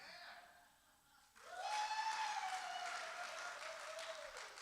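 An audience at an acoustic guitar concert breaks into clapping and cheers after a brief lull, swelling quickly and holding steady at a moderate distance.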